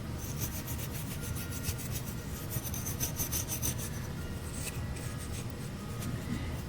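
Steady rasping, scratchy rubbing from sanding the hood of a 1/64 scale die-cast car body, close and quiet, continuous back-and-forth strokes with no talking.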